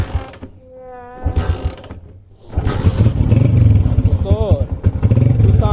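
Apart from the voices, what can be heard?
motorcycle being kick-started and engine running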